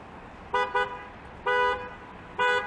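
A car horn on a Toronto street sounds in three loud blasts: two short honks close together, then two longer, evenly spaced honks, over a steady low hum of city traffic.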